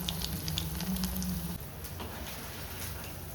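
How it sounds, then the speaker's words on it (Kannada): Paneer frying in hot oil, a soft continuous sizzle with faint crackling pops, fairly quiet and steady throughout with a low hum underneath early on. "ಎಣ್ಣೆ ಕಾಯಕ್ಕೆ ಇಟ್ಟಿದ್ದೀನಿ ಆ ಪನ್ನೀರ್ನ ಫ್ರೈ ಮಾಡ್ಕೊಳ್ಳೋದಕ್ಕೆ"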